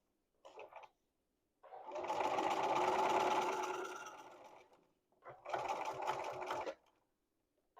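Home sewing machine stitching fabric for a small goose dress, running in two bursts of steady whirring, one long and one shorter, separated by a pause, close and alone.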